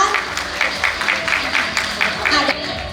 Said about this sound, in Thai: ขอเสียงปรบมือกับน้องๆด้วยนะคะ